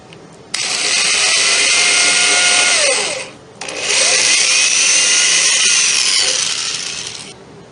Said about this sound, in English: now I will drill them